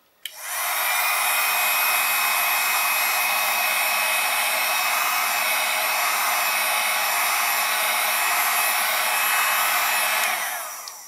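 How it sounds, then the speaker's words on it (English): A heat gun runs continuously while heating a piece of plastic, giving a loud, steady blowing whoosh that starts abruptly, holds evenly for about ten seconds, then cuts off. Nobody speaks. "we can either try and fit the piece of plastic using a heat gun, and the trick is to keep it moving all the time"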